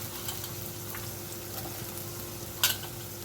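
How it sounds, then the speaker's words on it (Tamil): Vegetables frying in oil in a pan for Madurai-style pulikuttu, a steady low sizzle with light stirring scrapes and one sharper clatter near the end, no voices. "நல்லா சேர்த்து எண்ணெயிலேயே நல்லா காய் எண்ணெய் பிரிகிற அளவுக்கு நல்லா வேகணும்"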